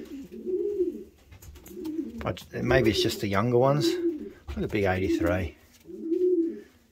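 Pigeons cooing in a loft, soft repeated coos heard near and at moderate volume, alternating with someone talking to the birds between them.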